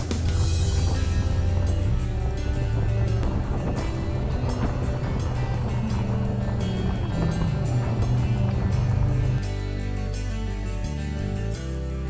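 A motorcycle ridden across the Maraetotara Bridge, its engine droning steadily and loudly up close under strong wind rush, with the pitch shifting slightly as the ride goes on.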